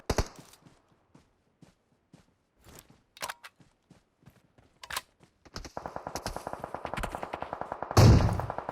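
Rapid gunfire between other players in PUBG Mobile, a run of quick shots in the middle distance after scattered isolated cracks, with one heavier burst near the end.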